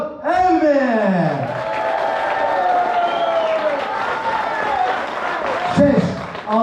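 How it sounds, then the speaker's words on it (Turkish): Hotel club crowd in Alanya applauds and cheers a Miss Paradiso beauty contest entrant, steady clapping and whoops mixed with loud voices and sliding whistled or sung tones near the start. "Applaus, avlisvet alkış for Elmi."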